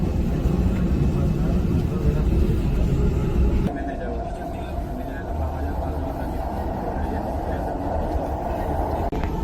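Dubai Metro train running on its line, a steady loud rumble and rush of wheels and motor that drops slightly in level partway through, continuous throughout with a voice talking over it.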